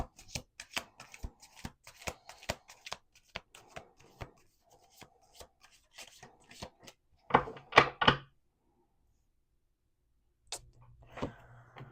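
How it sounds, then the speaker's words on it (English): Rapid riffling and snapping of a deck of cards being shuffled, several bursts in a row, close up, with a brief pause before a final riffle. "Last shuffle."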